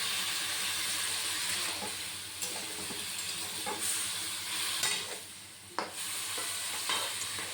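Water is added to a pan of cooking pumpkin, setting off a steady, moderate sizzle with stirring scrapes and a few sharp clicks of utensils against the pan.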